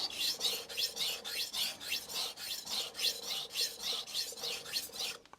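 Kitchen knife stroked across a Shapton Kuromaku whetstone, a close, even series of about fifteen rhythmic rasping swipes back and forth, each a bright scraping hiss.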